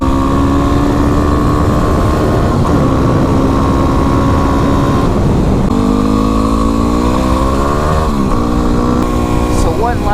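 A Yamaha WR250R dual sport motorcycle engine drones loud and close while riding, its pitch rising and falling through gear changes, with a rider talking over it.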